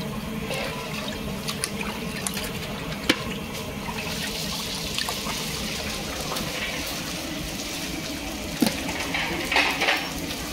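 Cut pieces of fish being washed for a rohu curry, with water splashing and trickling continuously over them and occasional clinks of a metal bowl or utensil, close and moderately loud.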